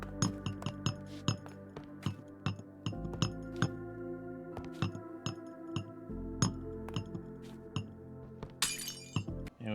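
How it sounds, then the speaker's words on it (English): Repeated glassy clinks of blocks being placed in a video game, a rapid irregular series of sharp, bright taps over a steady musical background, with a brief shattering burst near the end. "I love this glass placing sound effect"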